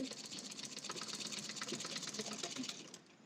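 A sewing machine stitches a straight seam joining a dress's shoulder and neckline, giving a fast, even mechanical chatter close by and fairly quiet, running continuously before slowing and stopping at the end.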